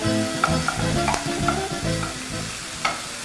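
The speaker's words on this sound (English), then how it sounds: "our meat is browning nicely. So we just want this to brown." Beef for a teriyaki stir fry browns in a hot pan with a quiet, steady sizzle, broken by soft rhythmic scrapes and stirs and a few small pops, close and with no voices.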